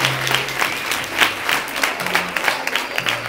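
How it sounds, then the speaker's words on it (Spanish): An audience applauds at a university address in Guatemala: dense, steady clapping from many hands fills the room, with a faint low voice or hum beneath it. "Me gustaría que ustedes le dieran un aplauso a la municipalidad y a los directores y a su maestro."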